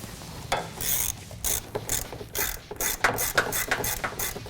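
Ratchet tightening a headlight bolt on a Ford F-150, with quick repeated close clicking strokes in a steady back-and-forth rhythm.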